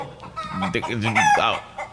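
Chickens cluck and squawk up close in a brief, busy burst of calls.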